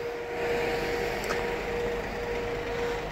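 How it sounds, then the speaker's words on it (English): The fridge chiller unit on a 62-reg Mercedes-Benz Vito 113 CDI long-wheelbase van runs with a steady, low-level mechanical hum and a constant tonal whine, unbroken throughout and without talk. "You can hear the unit there, working fine."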